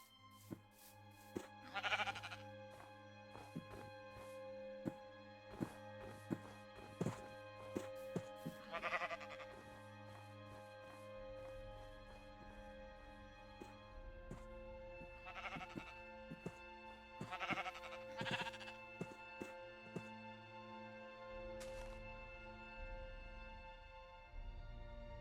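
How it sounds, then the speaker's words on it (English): Sheep bleat in a grazing herd, several calls rising at intervals from the flock and standing out clearly over a steady background of low tones. "And a herd of sheep grazes nearby."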